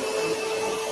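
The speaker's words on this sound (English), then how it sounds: "So next, Mr. Trump, I'm going to need you to vacuum." A vacuum cleaner runs steadily at close range, a constant whining motor hum with a clear tonal pitch and no voices over it.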